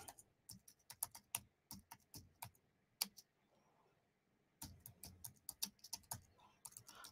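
Rapid clicking keystrokes on a computer keyboard, typed in quick bursts with a brief pause in the middle before resuming, close and fairly quiet with no talking.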